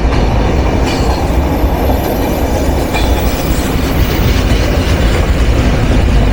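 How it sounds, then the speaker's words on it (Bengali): Banalata Express, Bangladesh Railway's West Zone non-stop intercity train number 791, rolling past on the rails with a steady, loud rumble and rattling wheel noise that holds throughout, with no voices. "বাংলাদেশ রেলওয়ের পশ্চিমাঞ্চলের একমাত্র ননস্টপ জমিদার ট্রেন নাম্বার 791 ইন্টারসিটি বনলতা"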